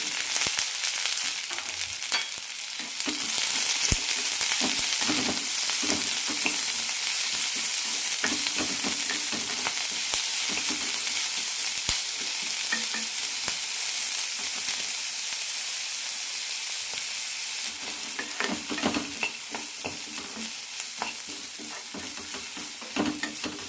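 Carrots with coriander leaves and small pieces of tomato sauté in a pan for carrot chutney, giving a steady close sizzle with repeated scraping and clinking as a spoon stirs, no voices.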